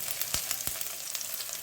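Onions sautéing in a pan, a faint steady sizzle with two or three sharp spatula taps, brief and quiet with no talking.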